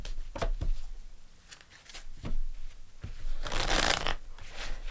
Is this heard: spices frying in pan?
no